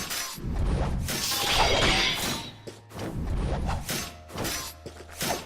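Swords clash in a fight from the Fate/Stay Night visual novel, a series of sharp metallic crashes and swishing strikes in irregular bursts, close and loud with brief gaps between blows.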